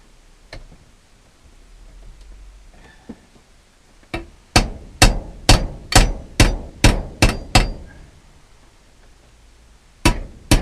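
Hammer pounding 1/8-inch steel into sharp bends held in a vise: a few scattered taps, then a rapid run of about ten loud, ringing blows in steady rhythm, and two more strikes near the end.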